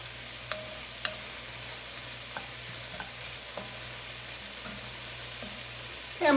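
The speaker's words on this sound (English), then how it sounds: "the more you let this saute, it's actually going to bring out more flavor in the end anyway in your dish" Onions and other ingredients for green chili sautéing in a pan give a soft, steady sizzle beneath a constant low hum, with a few faint utensil taps and a louder stir at the very end.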